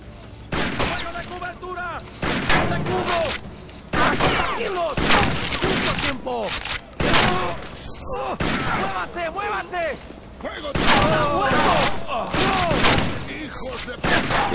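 Shotgun blasts from the video game Rainbow Six Vegas boom repeatedly at irregular intervals, loud and sharp, with game voices talking between and over the shots.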